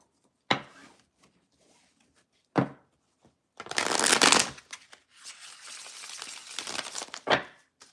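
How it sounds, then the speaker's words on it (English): Tarot cards being shuffled close up: a few sharp riffling bursts, then a longer crackling shuffle and a final quick flick, with no talking. "One more shuffle."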